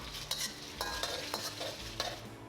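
Dry red chili peppers and dry lantern chili peppers are stir-fried in a hot wok, with a steady sizzle and several sharp scraping stirs of the spatula spaced through the clip, close and fairly loud.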